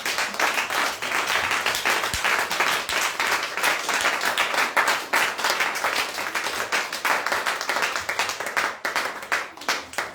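A church congregation applauds the Lord with steady, dense clapping from many hands, loud and sustained throughout with no pause.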